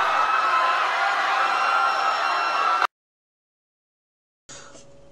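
A dense, loud roar of a huge crowd of mercenary rebels fleeing in terror, a broad wash of shouting and noise that cuts abruptly to silence, then resumes briefly at the end.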